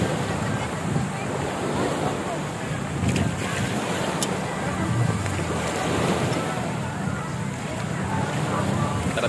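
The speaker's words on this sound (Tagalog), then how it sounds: "Oh, sarap naman ng mga palo ng alon." Ocean waves wash against the shore at Puerto Azul in Ternate, Cavite. The surf makes a constant rushing wash with wind buffeting the microphone, and voices murmur faintly in the background.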